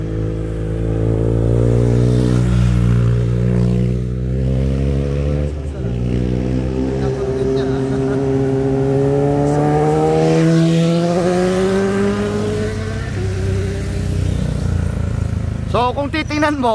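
A motorcycle engine revs loudly and steadily at Divel's Corner, a sharp corner, its pitch gliding up and down as it leans through the turn, with a brief rattle near the end.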